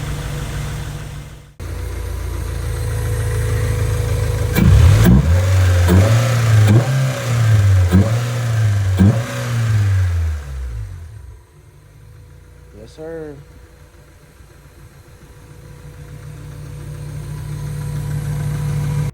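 A rebuilt Honda Civic D16Y8 engine idles, then revs several times in quick rising bursts before settling and shutting off, leaving a quieter hum with a few words spoken nearby.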